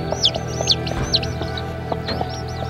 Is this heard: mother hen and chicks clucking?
yes